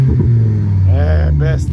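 A Mercedes W222 fitted with a Thor electronic exhaust system gives two short, quick revs over a steady low rumble, with a voice talking nearby.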